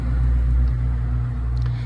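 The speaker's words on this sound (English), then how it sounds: "truck going by" A truck passes on a road beside an outdoor camp, a steady low rumble with engine hum that swells and fades slightly over two seconds, fairly close and alone with no talk.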